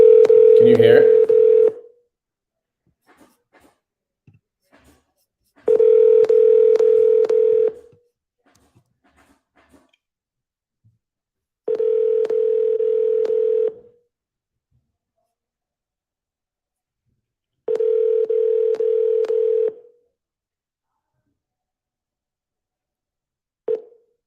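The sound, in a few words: telephone dialing and ringing a seller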